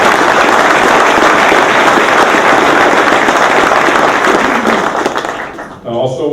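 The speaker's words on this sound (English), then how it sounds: "A round of applause for each of them." Thick, roaring applause from a large audience at the Southern California PGA annual meeting, holding steady before thinning out at the end as a voice starts to speak.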